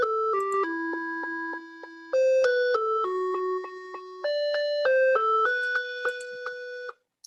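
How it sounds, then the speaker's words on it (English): Jingle Bells melody played as plain electronic beeping tones from a micro:bit simulator, clear note-by-note steps with steady pitches, loud and alone, ending abruptly. "if we start the simulator and click the A button, it should play Jingle Bells"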